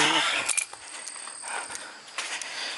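A set of metal Allen keys jangles and clinks in a few scattered bursts while a clutch is being replaced on an EK hatch, with faint background noise between the clinks.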